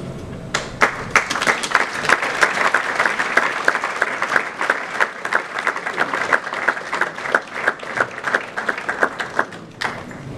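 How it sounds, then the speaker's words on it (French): Crowd applause at an award ceremony honoring staff, sustained clapping with distinct individual claps standing out, continuing for about ten seconds before fading. "Nous allons les applaudir."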